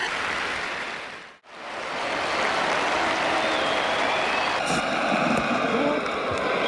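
A large cricket crowd at a 1983/84 World Series Cup match applauds a century by Vivian Richards, with dense, sustained clapping and cheering that briefly dips and then swells back to full roar.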